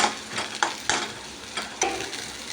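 Crushed ginger, garlic and green chillies fry in a pan with a steady sizzle, stirred several times so that sharp scraping accents punctuate the hiss, close and fairly loud.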